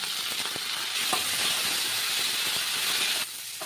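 Nigella seeds and turmeric sizzle in hot oil as the tempering for a young flat-bean curry, a loud, steady, close hiss that runs throughout and drops slightly at the end, with no voices.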